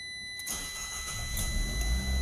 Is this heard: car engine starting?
yes